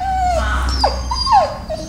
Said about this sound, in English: this is the part where we're gonna have two dogs off leash